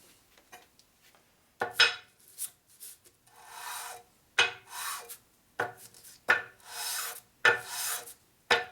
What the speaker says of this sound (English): So we go over here and do a little light sanding.